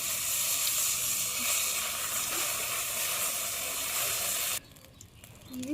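Ginger paste and spices fry in a pan on a handmade clay stove in a Bangladeshi village kitchen, giving a loud, steady, close-up sizzle that cuts off abruptly near the end.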